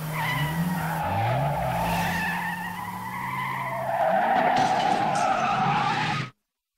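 A racing car in a racing video game skids with long tire squeals over steady engine drone, ending abruptly as it crashes and flips.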